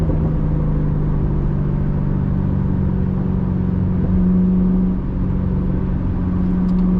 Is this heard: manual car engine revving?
yes